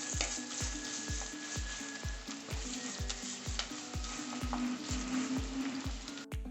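Shallots, ginger, green chilli and curry leaves turn brown in hot oil, with a steady loud sizzle and a regular rhythm of spoon strokes scraping the pan.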